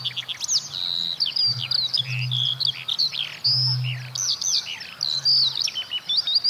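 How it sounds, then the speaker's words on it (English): Skylark song in a natural soundscape: a continuous stream of rapid, high chirps and trills, fairly close and clear, with a low steady hum underneath and no talking. "a skylark."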